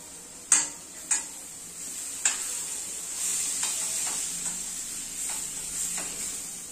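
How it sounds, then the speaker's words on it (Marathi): Capsicum and tomato cook in a pan with a soft, steady sizzle, broken by several sharp scraping and tapping strokes of a spoon against the pan, close by, with no talking. "आता टोमॅटो आणि शिमला मिरची छान मऊसूद होईपर्यंत शिजू द्यायचं आहे."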